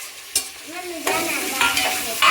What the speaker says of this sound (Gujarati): કાંડા વટાણા ને આ બધું હવે લીલા મરચાં ને બધું મિક્સ કરી દઈશું